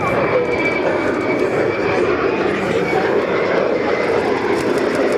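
A low pass by an F-35 fighter jet at RAAF Williamtown during a Dawn Strike display, a loud, steady roar of jet engine noise that fills the whole moment without letting up.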